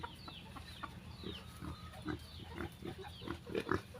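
One-month-old piglets grunt and squeal as they roam around outside, giving repeated short, close grunts amid rustling, with a chicken clucking faintly nearby.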